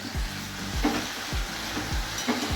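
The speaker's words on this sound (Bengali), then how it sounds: "এটা ভেজে নিচ্ছি" Water lily stems fry in a pan tempered with garlic, along with green chilli, salt and turmeric: a continuous sizzle under regular, rhythmic scrapes of a spatula stirring roughly twice a second, close and even.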